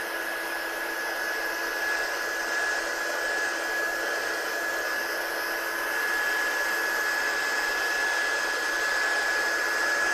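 A hair dryer blasts steadily to dry a craft project, a constant loud whooshing hum with a high whine, running unbroken for about ten seconds with no talk.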